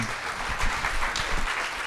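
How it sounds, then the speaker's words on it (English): A small audience gives a guest a big round of applause, a steady, full crackle of many hands clapping together, close and even throughout. "Give him a huge round of applause."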